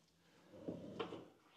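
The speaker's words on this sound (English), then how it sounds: "trash can drawer" In a modern kitchen with soft-close cabinets, a trash can drawer slides open or shut with a couple of soft, muffled wooden knocks, close by in a quiet room.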